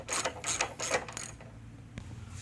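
A ratchet turning an 11mm nut on a 2013 Lincoln MKS with a 3.7L engine during water pump and radiator work, four quick bursts of clicking up close, then a single click after a pause.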